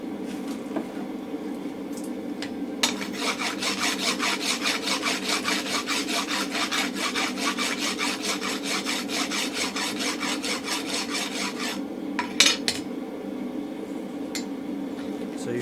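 A hand rasp filing a hot steel round punch at the forge, a fast steady scraping rhythm close by for most of the stretch, over a continuous background hum, ending with a couple of sharp taps.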